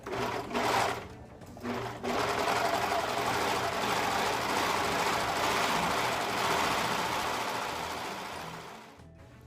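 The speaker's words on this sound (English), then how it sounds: "I'm going to go ahead and serge off all the selvage edge around the whole scarf." A serger sewing machine finishes the selvage edge of a fabric scarf, running in a loud, close, continuous mechanical whir after a couple of brief starts, then slowing and stopping, with no speech.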